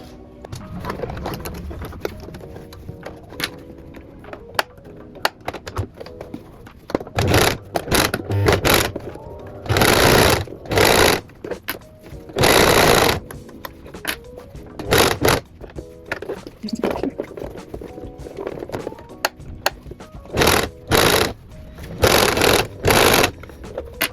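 Sewing machine stitching a boxy makeup pouch, running in repeated loud bursts of a second or two separated by short pauses, close and alone with no talk.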